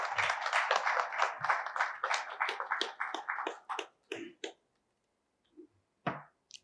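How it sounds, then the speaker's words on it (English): Audience applause at an automotive manufacturing conference, a dense patter of clapping that thins out and breaks into scattered individual claps before fading to near silence. "A big round of applause"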